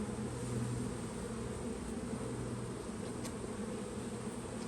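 Honey bees swarm around a frame lifted from an opened hive, a dense, continuous buzzing that stays close and steady throughout with no voices.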